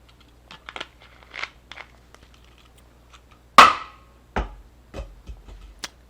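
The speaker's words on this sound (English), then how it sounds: "that was the sound of me throwing my empty soda bottle at the wall" A sharp, loud plastic crack of an empty soda bottle hitting a wall stands out amid scattered small rustles and clicks, followed by a few lighter thuds.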